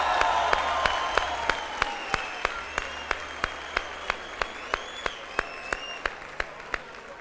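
Studio audience applause on a Turkish television talk show, a steady wash of clapping with sharp regular claps standing out, sustained and fairly loud throughout with no talk over it.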